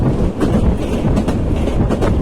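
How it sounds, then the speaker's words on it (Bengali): A train rushes along the railway tracks with a loud, steady rumble and a dense rattle of wheels and carriages throughout, with no voices. "সব কিছুকে পিছনে ফেলে ট্রেন ছুটছে"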